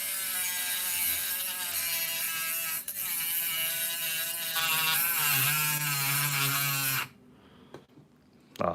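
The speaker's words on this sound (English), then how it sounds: "Please finish cutting this one screw at least," A small power cutting tool grinds through a screw on an RC model engine, a loud, steady high-pitched buzzing whine that wavers in pitch, then cuts off abruptly near the end, followed by brief clicks.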